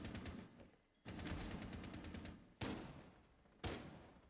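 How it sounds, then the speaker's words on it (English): Video game gunfire heard as the player is shot at through a wall: three loud bursts of rapid automatic fire, each starting abruptly and rattling on for about a second or more. "Getting shot at through the wall by Liz."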